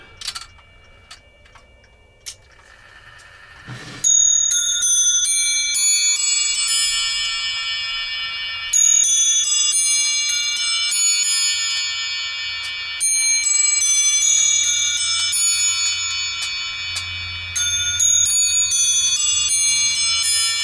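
Bells of a restored chime clock ring out a melodic sequence of clear struck tones with ringing overtones, preceded by a few ticks and clunks of the mechanism, loud and close with no talking.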